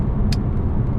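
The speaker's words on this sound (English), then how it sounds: "while I'm driving in the car" A car drives along with a constant low engine and road rumble heard from inside, steady and fairly loud, with one brief airy hiss.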